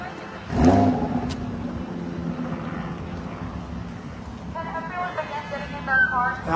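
Car rolling along a road as part of a caravan, a low steady engine and road rumble throughout with a brief louder swell near the start, while someone talks over it.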